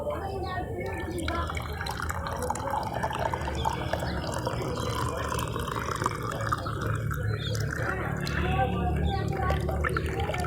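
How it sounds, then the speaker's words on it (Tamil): Homemade herbal kashayam decoction is strained through a strainer, giving a steady trickle and splash of liquid with faint drips while a voice talks over it throughout. "இப்போ வந்து நம்ம வடிகட்டி எடுத்துக்கலாம்"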